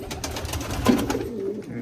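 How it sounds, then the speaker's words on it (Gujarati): Pigeons at a loft in Bhayavadar coo softly and repeatedly at mid distance, with low murmuring calls over a steady background of flock activity. "આ બધા છે કબૂતર."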